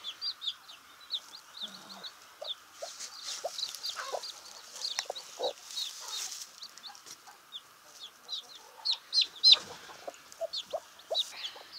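A broody hen clucks softly and steadily over store-bought chicks placed beneath her, while the chicks keep up a busy chorus of high, rapid peeps close by, with a few louder chirps near the end.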